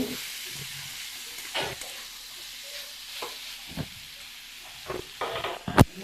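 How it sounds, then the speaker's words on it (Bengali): Soybean chunks sauté in a pan with turmeric and salt, making a quiet, steady sizzling hiss broken by occasional stirring scrapes and clinks, with no talking. "হলুদ দিয়ে দিলাম নুন দিয়ে দিলাম একসঙ্গে ভালোভাবে কষিয়ে নেব"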